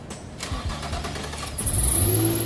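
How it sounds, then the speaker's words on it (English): A water-damaged car engine cranks briefly on a cold start, then catches and fires up, settling into a loud, high idle with a whining belt. "I'm gonna do a cold start real quick"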